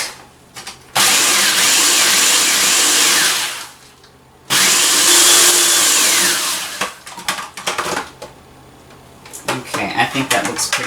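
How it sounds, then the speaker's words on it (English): Crackers ground into fine dust in an electric grinder or food processor: two loud, sustained whirring bursts of a few seconds each, followed by softer intermittent clatter. "we're just going to grind them into a nice dust"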